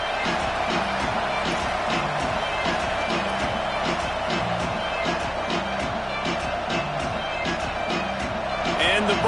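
A packed stadium crowd at a Buckeyes college football game, a dense, steady roar with rhythmic stomping and cheering, heard under an announcer's voice.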